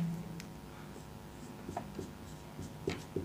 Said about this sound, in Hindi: तो आइए लिखते हैं